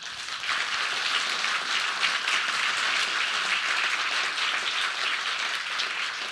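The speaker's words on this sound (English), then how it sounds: "I know that applause is supposed to signal that we leave" Sustained, dense applause from a large summit audience in Washington D.C., steady and even throughout with no voices over it.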